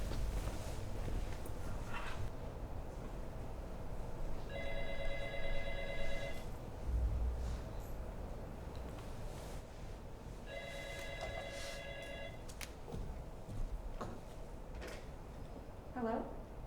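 A telephone ringing in two distinct bursts of trilling bell rings, a few seconds apart, fairly faint under a steady background hum in a bar setting.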